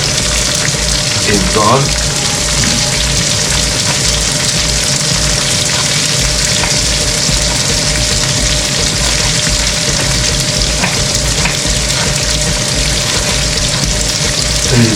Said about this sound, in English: You just fry all these together until the fresh smell